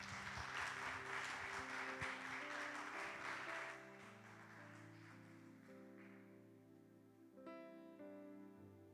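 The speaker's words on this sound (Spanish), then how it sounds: "Denle un fuerte aplauso al Señor." Congregation at a church service breaks into loud applause for several seconds, the clapping thinning out and fading while sustained keyboard chords carry on underneath and continue alone.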